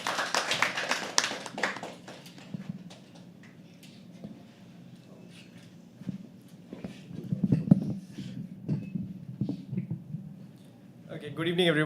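Audience at a live poetry open mic claps for a poet coming onto the stage, scattered applause dense at first and then thinning, with voices and crowd chatter running underneath.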